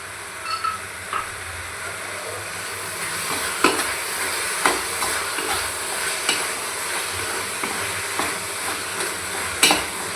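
Carrot halwa sizzles gently in a pan as ghee-fried dry fruits go in, with occasional spoon scrapes and small knocks over a constant frying hiss.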